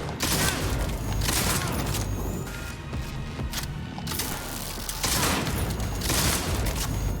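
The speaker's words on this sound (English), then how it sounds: "how do we take 4 shotgun blasts?" Shotgun blasts and heavy gunfire boom repeatedly in the shooter Cyberpunk 2077, with loud, close bursts spaced about a second or two apart over dense background combat noise.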